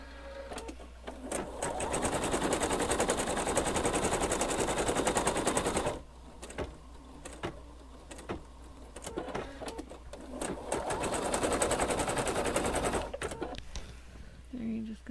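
A FAF Creative 3.0 embroidery machine stitching with a large hoop, giving a loud, steady rapid mechanical chatter in two long runs, with a brief pause between them and a few quieter clicks.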